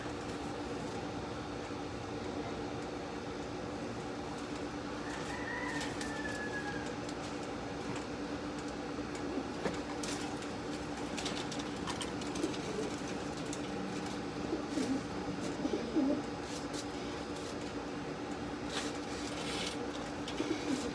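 A grizzle pigeon from Taiwan coos softly now and then over a steady background hum, with other faint bird calls and occasional clicks, no talk.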